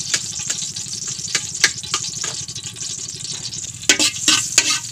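Ingredients sizzle steadily in hot cooking oil in a pan for a Filipino ginataang susu (river snail in coconut milk) dish, with continuous frying crackle punctuated by sharp spatter pops and stirring scrapes, fairly close.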